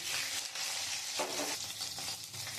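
Green chillies and garlic frying in hot oil, a steady close sizzle broken by short stirring scrapes.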